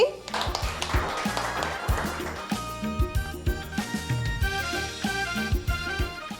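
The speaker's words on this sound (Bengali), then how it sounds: "পল্লবীর জন্য একটা হাততালি" Children clapping together for a young girl's drawing at a lively kids' show, rapid uneven hand claps running continuously from near start to end, fairly close and loud in a small room.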